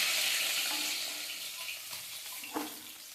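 Poa bhola fish fry in a pan of hot oil, a steady broad sizzle that is loudest at the start and eases off slightly, with a small clink of a utensil near the end.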